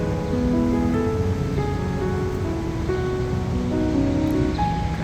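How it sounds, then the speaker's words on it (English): A splashing water fountain near Wall Street in Manhattan gives a dense, steady rush of falling water that is loud and constant throughout, with faint tonal sounds from the street mixed in. "water fountain."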